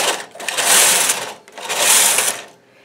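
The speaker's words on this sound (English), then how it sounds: "So I'm knitting the contrasting color until I get to a row where it doesn't select." A knitting machine knits a row of contrasting-colour yarn for a tiny Christmas stocking, with two loud, close whooshing carriage passes, one after the other, each swelling and fading, with no talking.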